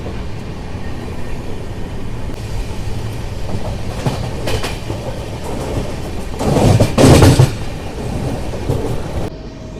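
Riding the 12763 Padmavati SF Express as it passes Tiruchanur station without stopping, a continuous rolling rumble and rattle of the carriages builds, with a louder roaring burst near the end before easing off.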